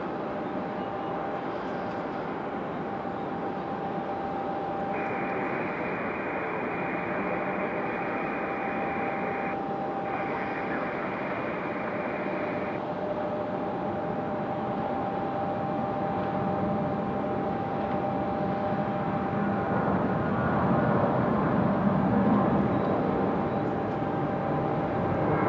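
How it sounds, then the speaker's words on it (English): A United Boeing 737 airliner takes off at Raleigh-Durham airport, a steady, broad engine roar that holds throughout at moderate distance, with faint intermittent tones layered over it. "Takeoff for that United."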